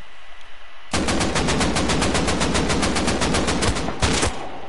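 Automatic gunfire in the video game Rust erupts after a brief quiet moment, a loud, rapid, steady burst of shots lasting several seconds with a short pause near the end before a final flurry.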